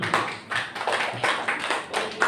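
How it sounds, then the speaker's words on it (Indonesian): Scattered applause from a gathering at a Sunday morning religious study session, a short run of light, uneven hand claps, fairly close and moderate in volume. "Tepuk tangan untuk kita semua Bapak Ibu"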